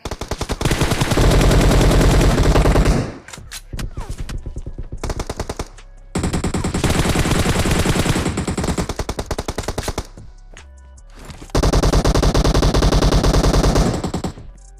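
In PUBG Mobile, loud automatic rifle fire rattles in long sustained bursts with brief pauses between them and a few sparser shots in the gaps.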